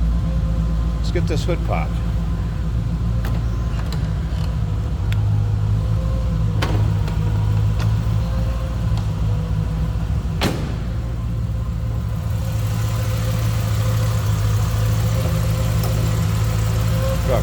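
A 1988 Chevrolet Corvette Greenwood convertible idles steadily, its deep, throaty exhaust humming low and constant throughout, with a few light clicks and a voice speaking briefly near the start.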